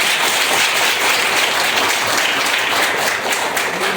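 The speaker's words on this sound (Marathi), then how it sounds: "टाळ्या वाजवा जोरात एकदा" Loud, dense applause from a crowd of students at a school classroom activity, many hands clapping at once in a continuous roar for several seconds, close and steady with no talking.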